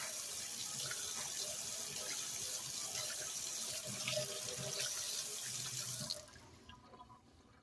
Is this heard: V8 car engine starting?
no